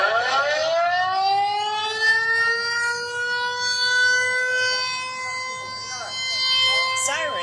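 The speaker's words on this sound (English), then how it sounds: "Sirens went off at exactly 1:30 p.m. local time as the annual Wan'an air raid drills kick off in Taipei" Wailing air raid siren during the annual Wan'an air raid drill in Taipei, a long sustained rising tone carrying outdoors with faint background noise and a brief higher sound near the end.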